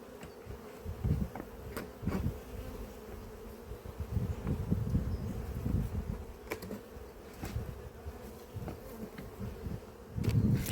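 Honey bees buzz continuously around an open hive at an apiary, a dense, close drone that swells and fades, with occasional clicks and knocks from handling the hive.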